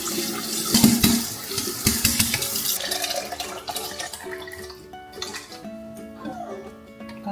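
Kitchen tap running water into a sink, a steady splashing flow with some clatter of dishes, fairly close and continuous.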